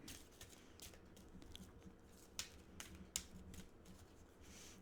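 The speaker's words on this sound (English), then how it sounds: "One more shuffle for pile 1" Tarot cards shuffled by hand, a steady run of close riffling and soft slapping with a few sharper snaps, quiet and without talking.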